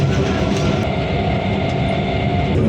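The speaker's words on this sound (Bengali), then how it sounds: "তো যাই হোক এবার দেখি কখন ট্রেন আসে।" Train at a station rumbling loudly with heavy rolling wheel noise and a steady low roar, continuous for under three seconds with no voices.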